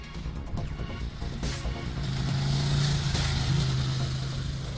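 A Ducati Panigale 959 motorcycle rides along a road, its engine droning steadily and rising slightly in pitch with wind rush over it, close and fairly loud throughout.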